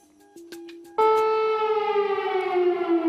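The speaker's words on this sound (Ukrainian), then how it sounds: "Під час спільного з зеленським брифінгу у Києві їх перервав сигнал повітряної тривоги." A loud air raid siren in Kyiv starts up and holds a steady rising wail, preceded by a few brief clicks and a low tone, interrupting a press briefing.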